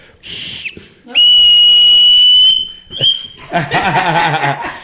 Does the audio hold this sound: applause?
no